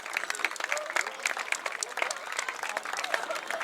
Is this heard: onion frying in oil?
no